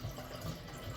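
Water pours steadily into a Bud Light pitcher for a vacuum-brew coffee maker, a continuous low splashing fill heard close and alone with no talk.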